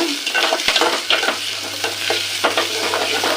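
Green turkey berries being sautéed in hot oil, a close, loud sizzle with scraping strokes of a ladle stirring them through the pan.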